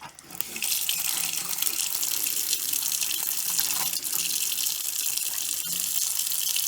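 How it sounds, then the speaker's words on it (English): Hot water gushes steadily from a tap while a home water heater is being drained, a loud continuous hiss of running water lasting the whole stretch with no talking. "So I'm going to turn on the hot water."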